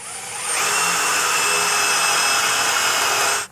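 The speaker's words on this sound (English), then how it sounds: "Mandy's going to go ahead and drill some pilot holes for the bracket right there as well." A power drill bores pilot holes into wood for a mounting bracket, a steady high whine running continuously for about three seconds after a brief start, close and loud, with no talking.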